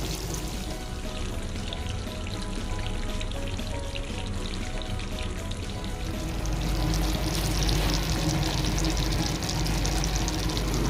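Chicken white karahi cooks in a pan over a low flame, giving a steady, dense sizzle that swells louder toward the end, with no talking.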